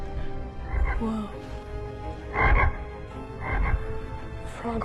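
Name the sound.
frog croaking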